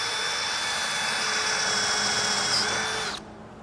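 A power drill spins a hole saw arbor as a 1/4 inch pilot bit through the roof of a 3rd gen Toyota Tundra, a steady high whine holding for about three seconds before cutting off sharply.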